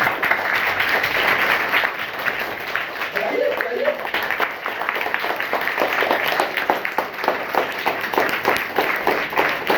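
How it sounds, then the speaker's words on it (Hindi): Sustained, loud applause from a school classroom audience during a quiz session, with steady dense clapping filling the whole stretch and a brief voice cutting in partway through. "एक बार जोरदार ताली बजा दी"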